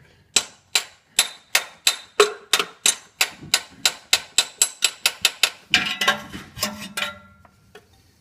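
A wrench tapping on a car part during an oil change: a run of about sixteen sharp, evenly spaced metallic knocks, slightly rougher and quieter toward the end, followed by faint clatter.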